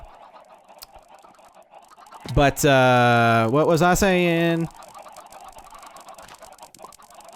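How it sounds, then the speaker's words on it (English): Chickens in the game Minecraft let out a loud run of clucks and squawks close by, preceded and followed by a person talking. "I'm going to sex more chickens since I'm here."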